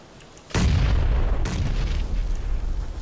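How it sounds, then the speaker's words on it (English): A grenade blast in the battle-royale game PUBG: one loud, sudden boom that bursts in after a quiet moment, then rolls into a long, dense rumble, with a second sharp hit about a second later. "I'm throwing a grenade up there, so."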